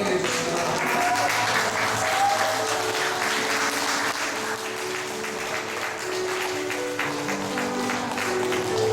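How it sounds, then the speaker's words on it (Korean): Warm audience applause at a 2009 graduation ceremony as flowers and gifts are handed to the graduates, steady sustained clapping from a crowd, with a faint tonal background. "여러분 뜨겁게 박수로 환영해 주시기 바랍니다."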